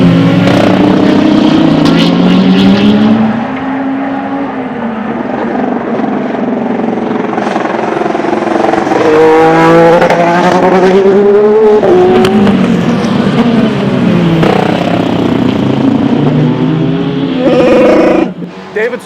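An Acura ARX-06 hybrid IMSA GTP race car accelerates and brakes out of corners, its loud engine rising and falling in sweeping, growling pitch changes over about nineteen seconds, with speech heard intermittently over it.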